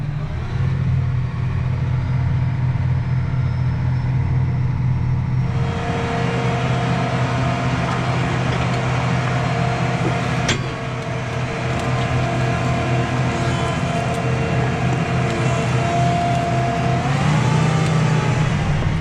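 An 82 tractor in four-wheel drive pulls a 5 shank UM Zone Builder subsoiler slowly through a field, a loud steady engine drone that shifts load partway through and holds throughout.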